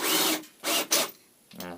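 A cordless drill forces an oak blank of 20 mm section through a tube only 16 mm inside, in three short, harsh grinding bursts separated by pauses. A faint voice-like sound follows at the end.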